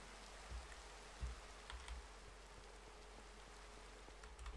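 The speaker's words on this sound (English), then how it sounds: "I hate how much it rains." Rain falls steadily in Minecraft at night, a faint, even hiss with occasional soft low thumps, heard alone without any voices.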